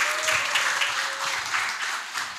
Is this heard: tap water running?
no